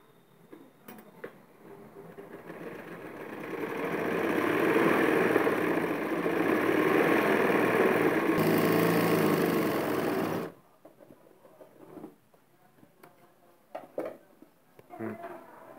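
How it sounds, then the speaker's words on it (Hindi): Sewing machine stitching a loose basting seam along one side of a net fabric strip for a newborn baby pillow, a steady continuous whir for about ten seconds that stops abruptly, followed by quiet handling noises. "अब एक साइड कच्ची सिलाई लगानी है।"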